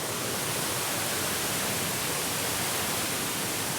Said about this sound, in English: you've got a nice stream running, good place to water the dogs, got some nice cascading waterfalls